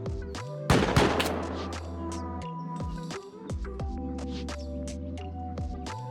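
Semi-automatic rifle shots in the survival game Rust: one loud burst of fire early on, then a run of sharp, spaced cracks and clicks over steady background game noise.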